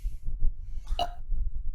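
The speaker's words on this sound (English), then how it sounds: "Did you just burp like in my general direction?" A single short burp, close and fairly loud, rising out of low rumbling background noise.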